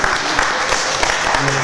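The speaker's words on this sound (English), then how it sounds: "Let's clap it up." An evening lecture audience claps together, a brief, fairly loud burst of many hands with a voice briefly audible near the end.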